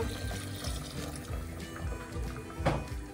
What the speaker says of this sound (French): Je rajoute de l'eau chaude